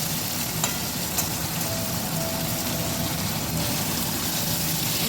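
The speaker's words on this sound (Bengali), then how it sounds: "এবার আমি পনিরটা ভেজে নেব" Cream paneer fries in a pan, a steady, dense sizzle close by with a few faint clicks and scrapes, no talking.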